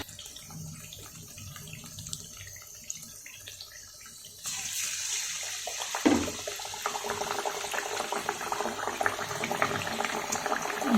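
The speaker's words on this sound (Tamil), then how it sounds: "நம்ம ஒவ்வொரு வடையாக தட்டி எண்ணெயில் போட்டு பொறிச்சு எடுத்துடலாம்" Pepper vadas dropped into hot oil for deep-frying, a low quiet start giving way to a loud, dense, continuous bubbling sizzle close by, with a brief splash as a vada goes in.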